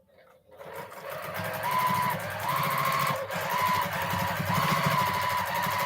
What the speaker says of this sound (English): When people say they are free motion quilting on a domestic sewing machine